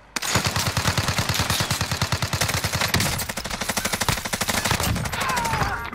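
Sustained rapid automatic gunfire in Call of Duty Warzone, dense bursts of shots close and loud with brief gaps, weapon fire dominating throughout.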